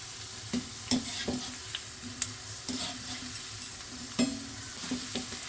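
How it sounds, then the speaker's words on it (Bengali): Kundru (ivy gourd) chips deep-fry in hot oil with a steady crackling sizzle, broken by occasional stirring clinks and scrapes, close and alone without talk. "ফ্লেমটা হাই করে দিলাম মাঝে মাঝে একটু লো করে দেবেন তাহলে ভেতর থেকে আমাদের ভাজা হয়ে যাবে"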